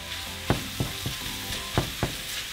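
Sliced cheesesteak meat and vegetables fry in a hot pan, seasoned with salt and pepper, giving a steady close sizzle with a few soft scrapes and taps of a utensil.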